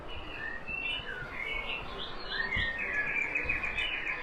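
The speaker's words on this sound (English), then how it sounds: "A lot of birds in this town." Many birds chirping in town, with repeated high tweets and trilling calls layered over a low background rumble, moderately close with no speech.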